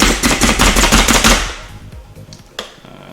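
A knife chops rapidly on a cutting board, mincing food in a fast, loud, close rhythmic burst that stops abruptly, followed by one lighter tap.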